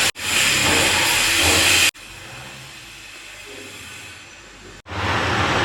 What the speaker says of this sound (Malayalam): നമുക്ക് വേണമെങ്കിൽ ഒന്ന് മിക്സിയിൽ ചെറിയ ജാറിലേക്ക് ഇട്ടിട്ടങ്ങ് അരച്ചെടുക്കാം